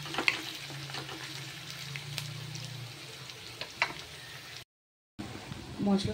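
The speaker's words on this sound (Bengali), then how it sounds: "পেঁয়াজটা নেড়ে চেড়ে ভেজে নেব লাল লাল করে" Oil sizzles steadily as onions fry in a wok, with occasional clinks of stirring and a brief gap of silence near the end.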